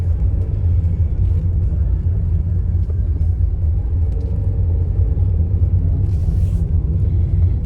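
Inside a car driving through light midday traffic in the Philippines, a steady low road rumble and engine drone carries on evenly throughout, with no one talking.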